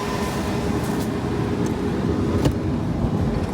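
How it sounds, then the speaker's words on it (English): A Tesla V3 Supercharger's liquid-cooling fans whir in a steady, loud broadband rush outdoors, with a few faint clicks and no talk. "You can hear the liquid cooling going on this V3 Supercharger."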